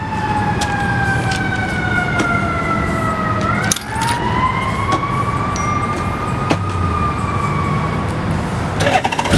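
A fire truck siren wails steadily nearby, its pitch slowly falling and rising, with traffic rumble underneath and a few clicks.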